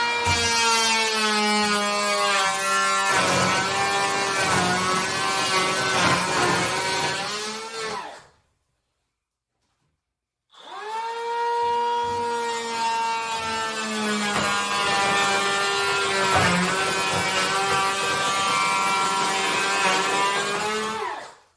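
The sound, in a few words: power planer planing a wall, second pass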